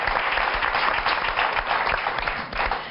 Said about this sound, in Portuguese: uma salva de palmas para a Mónica